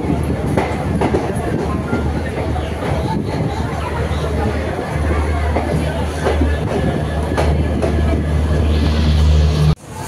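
Intercity Express train pulling out of the crowded Simaluguri junction, a steady loud rumble of rolling rail cars with low-frequency drone and clatter throughout, and chatter from people nearby mixed in.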